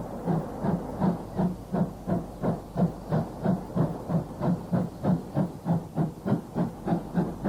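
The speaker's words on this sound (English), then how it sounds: "this is one of the Fowler 264 tank locomotives, introduced in 1933." A Fowler 2-6-4 tank steam locomotive, introduced in 1933, chuffs steadily at New Street in archive footage. The exhaust beats come in a fast, even rhythm with a constant hiss, and no one speaks.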